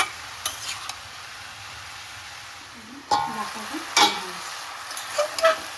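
Vegetables with ginger and tomato fry softly in a pan over a low flame, broken by a few sharp stirring scrapes and spoon knocks near the end.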